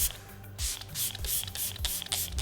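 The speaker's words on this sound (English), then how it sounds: "finish things off with a little bit of setting spray" Several quick, hissing bursts of makeup setting spray, close up, spaced in a loose rhythm with short pauses between.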